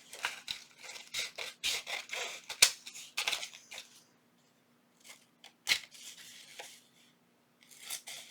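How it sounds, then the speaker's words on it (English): Scissors trim a paper tag for a junk journal, making a quick series of crisp close snips and paper rustles, followed by a pause and then a few more isolated cuts, with no talking. "Now I am going to go ahead and trim this around just like that"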